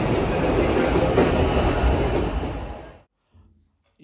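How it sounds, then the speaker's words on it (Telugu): A Melbourne suburban train rolls along the rails with a loud, close, steady rumble that cuts off after about three seconds, leaving only brief faint noises. "ట్రైన్ కోసం వెయిటింగ్. ట్రైన్ నుంచి ఎక్కడం."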